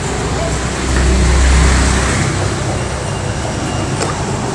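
Steady road traffic rumble with a low engine swell that builds and fades around the middle, continuous and moderately loud.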